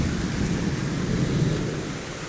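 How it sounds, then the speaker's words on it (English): Heavy rain pours steadily during a thunderstorm while low rumbling thunder rolls underneath, a dense, continuous wash of sound with no voices. "Thunder and lightning."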